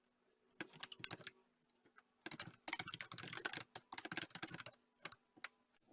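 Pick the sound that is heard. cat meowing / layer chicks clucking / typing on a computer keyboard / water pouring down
typing on a computer keyboard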